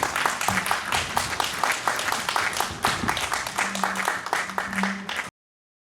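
A convention audience at a sci-fi fan event in Wales in 2016 gives a round of applause to the departing panel guests: steady, dense clapping from many hands that carries evenly for about five seconds, then cuts off abruptly.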